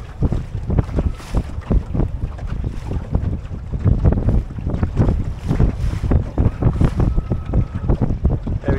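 A Drascombe Lugger sailboat cuts across the wind, with loud gusting wind noise and rushing water and hull slaps pulsing irregularly. Everything is close to the microphone and there is no talking.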